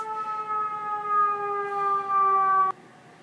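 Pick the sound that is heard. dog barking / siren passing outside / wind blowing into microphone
siren passing outside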